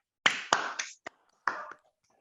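A handful of sharp, separate claps in a classroom after a student group's presentation, sparse and uneven, with quiet gaps between them.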